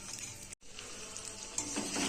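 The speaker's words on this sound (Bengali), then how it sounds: "চালটাকে এবার ভেজে নেবো ভালো করে।" Rice coated in ghee, ginger paste and turmeric fries in a pan for basanti pulao, giving a soft, steady close sizzle that briefly cuts out.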